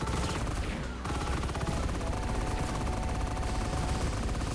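Dense, continuous barrage of rapid gunfire in a video game, loud and close, a steady wall of shots with no pauses.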